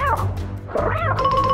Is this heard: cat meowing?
yes